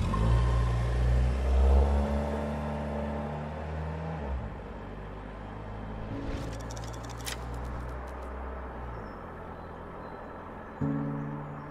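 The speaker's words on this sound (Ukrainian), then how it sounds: "В маленьку машинку, в якій закінчився бензин, одну крапельку капнув і машина поїхала далі" A small Tavria car in a TV advert engine rumbles and then revs as it pulls away and fades out. A brief clatter and a hiss follow, and a low hum returns at the end, with no talking.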